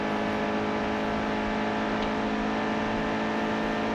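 Steady racing truck engine drone in a NASCAR Heat 2 Camping World Truck race at Daytona, loud and continuous with whirring road noise as cars pass, no talking.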